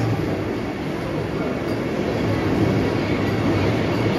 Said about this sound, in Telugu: అలా ప్లాట్ఫామ్ నెంబర్ 7 కి వచ్చామో లేదో మన ట్రైన్ అయితే వచ్చేస్తుంది అనమాట